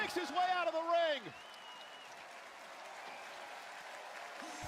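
At WWE Monday Night Raw, a wrestling crowd keeps up a sustained wash of applause. A loud voice speaks over it at the start, then the clapping carries on alone.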